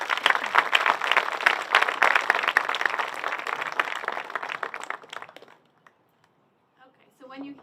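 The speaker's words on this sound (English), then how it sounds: "Big round of applause for the 5th grade team." An audience at a school graduation ceremony in Nyack, New York applauds the 5th grade team, steady dense clapping for about five seconds that fades out, followed by silence and then a voice speaking.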